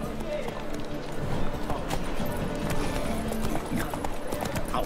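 Horse hooves galloping in The Witcher 3, a continuous rapid clip-clop beat mixed with game ambience and music, fairly loud and steady throughout.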